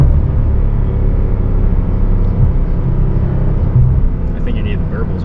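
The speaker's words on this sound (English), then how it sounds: "The turbo spool is just way better though with no burbles." A single-turbo car with no exhaust burbles accelerates, heard from inside as a steady, loud low engine drone and rumble with a faint rising whir layered over it.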